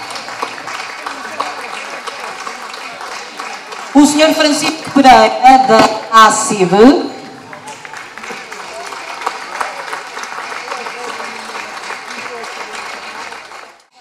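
Audience applause at the opening ceremony of the Barcelos folklore festival, a steady clatter of clapping throughout with a louder burst in the middle, while a man on a microphone announces a guest over it.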